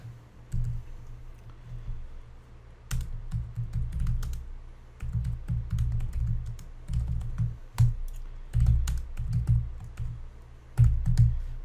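Computer keyboard typing during coding, with bursts of rapid clicky keystrokes separated by short pauses. The keys are close and steady over a low background hum, and no one speaks.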